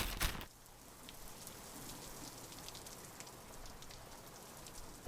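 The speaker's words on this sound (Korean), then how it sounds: "비가 너무 오긴 하는데 더 늦으면 밤이 될 거라 산책을 갔다 와야 될 것 같아." Rain falls outdoors during a trip in Europe, a soft and distant steady hiss with scattered drops. A brief sharp knock opens it, and there is no talking.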